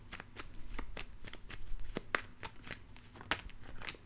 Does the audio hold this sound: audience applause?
no